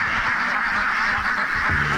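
A large flock of Indian runner ducks fills a 10-acre vineyard with dense, continuous quacking, many birds calling over one another at close range in a loud, steady chorus.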